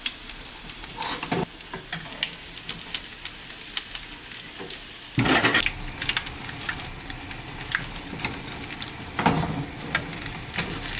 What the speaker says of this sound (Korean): 온도가 올라온 식용유에 김밥을 넣어줍니다